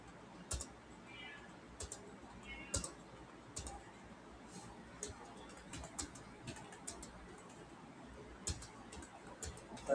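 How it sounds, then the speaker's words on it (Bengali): A computer keyboard is typed on with the enter key pressed between entries, producing sparse, irregular clicks and taps at close range over a faint background hum. "এন্টার দিবেন আর লিখে যাবেন।"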